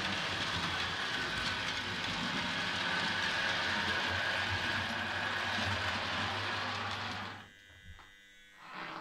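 A model locomotive runs steadily along its track with a continuous close electric whir and rail rumble, then stops abruptly near the end, leaving a quiet room and faint clicks.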